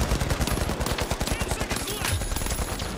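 Automated turrets in the video game The Finals fire a dense, continuous stream of rapid shots. The rattling volley stays loud and close throughout, with no pauses.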